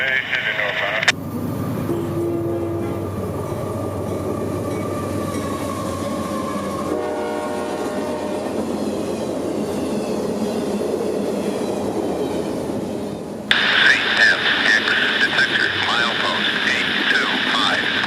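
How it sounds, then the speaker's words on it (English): A CSX intermodal freight led by rebuilt AC-44 locomotive 7223 and hauling UPS trailers and containers roars past nearby with sustained rumble, a long horn blast early on and rising wheel noise as cars rush by near the end. "With the rebuilt AC-44 number 7223 in the lead, this Tampa to Jacksonville hotshot of UPS trailers, JB Hunt, and a few Walmart containers would fly into the"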